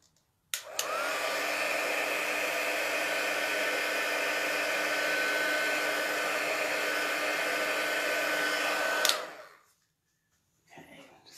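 A heat tool blows a steady, close whoosh for about eight seconds, warming adhesive for gilded leafing. It cuts off abruptly, leaving quiet.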